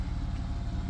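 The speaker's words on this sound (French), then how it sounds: "Voilà, le flat 6 en action." A Porsche 997 Carrera 4 flat-six engine runs steadily nearby, a deep, evenly pulsing rumble that holds constant throughout the short moment.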